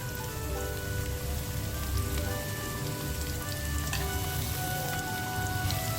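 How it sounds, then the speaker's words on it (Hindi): Finely chopped onions sizzle in hot oil in a pan for an egg and green pea curry, a steady close crackling hiss that never lets up. "ऑयल हमारा गर्म हो गया"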